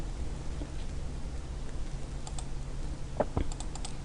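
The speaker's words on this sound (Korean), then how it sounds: "더블 클릭합니다" A computer mouse double-clicks during work in Autodesk Inventor, two quick light clicks followed by a few more faint taps over a constant background hiss and low hum.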